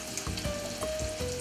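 Oysters frying in hot oil in a pan for a po boy sandwich give off a steady, close sizzle with scattered crackles and pops throughout.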